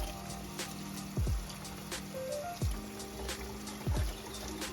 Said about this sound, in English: washing them down or rinsing them down